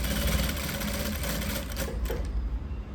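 A domestic sewing machine runs a steady seam of stitching through blouse lining fabric during a tailoring class. The whirring, rapid motor chatter stays close and continuous for the full stretch, with no voices over it.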